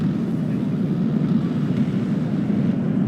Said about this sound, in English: I just like this electronic warfare aircraft constantly circling above, wasting their AA missiles and stuff.